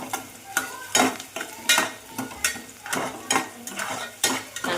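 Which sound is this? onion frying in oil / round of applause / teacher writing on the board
onion frying in oil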